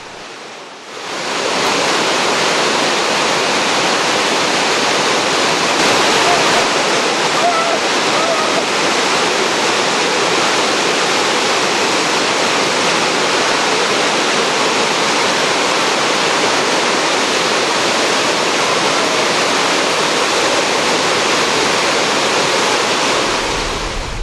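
Florence Falls in Litchfield National Park gives a steady, loud, unbroken roar of falling water that carries on for the whole stretch.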